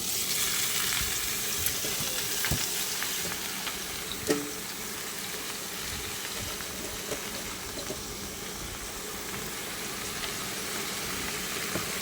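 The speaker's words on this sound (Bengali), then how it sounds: "এবার এঁচড়গুলোকে হালকা ভেজে নেব।" Raw jackfruit pieces lightly frying in a little oil for a Bengali prawn and jackfruit dish, a steady close sizzle with occasional spatula clinks and one distinct knock partway through, with no voices.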